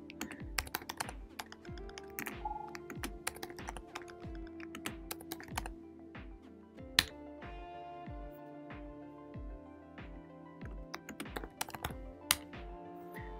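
Someone types on a computer keyboard in quick, irregular bursts of soft clicking keystrokes, faint and close with no talking.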